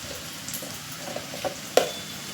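Onions sizzle in a pan of hot oil while amaranth greens are being cooked, a soft, steady frying hiss broken by a few light clicks and stirring knocks close by.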